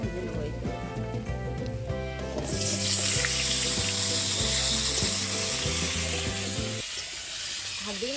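Fish and potato slices fry in a pan, and after about two seconds a loud, even sizzle rises and holds for several seconds. Music plays underneath, and the sizzle fades near the end.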